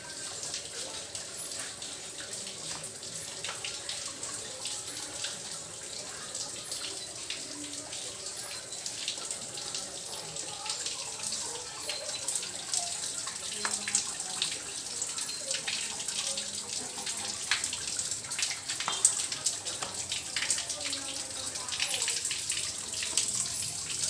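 Water from a bathroom shower runs continuously during a bath, a soft steady hiss and splatter at low volume with faint irregular drips.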